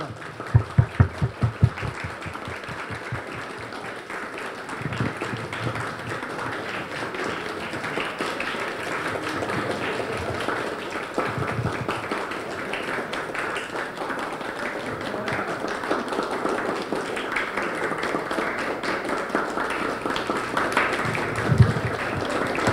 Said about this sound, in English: Please give a big applause and welcome our special person today, Miss Sandra